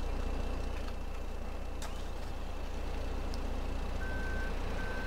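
Wheel loader in Farming Simulator 17 sounding a steady reversing beeper over a continuous low engine drone, the tone pulsing faintly near the end.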